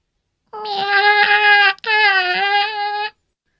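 A human voice imitates a cat's meow asking for help, in two long, whiny, drawn-out cries with a brief break between them, close and loud.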